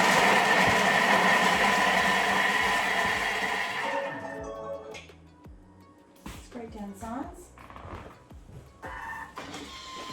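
A kitchen machine chops food for about four seconds, a loud, dense whirring roar that cuts off abruptly, followed by quieter kitchen clatter and handling noises.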